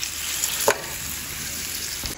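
Oxtail meat browning in a pot on a braai stand, a steady close sizzle with a sharp scrape or stir near the middle.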